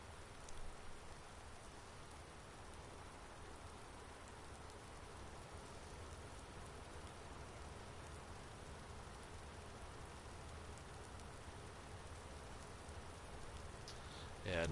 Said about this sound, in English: the rain's coming down good now